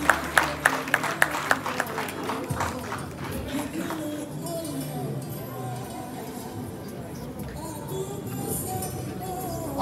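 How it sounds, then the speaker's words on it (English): Applause from a funeral reception audience, a burst of sharp claps in the first couple of seconds that fades into a murmuring crowd with talk over it. "let's give him a round of applause as he gives us a quick statement"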